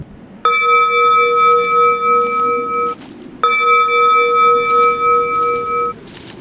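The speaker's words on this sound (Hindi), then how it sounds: "घंटी की आवाज" Two long, steady bell tones ring out one after another, each holding clearly before cutting off, with a soft rumbling background underneath.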